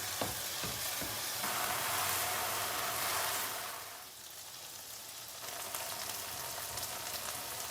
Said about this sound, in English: stir fry for a while before adding other ingredients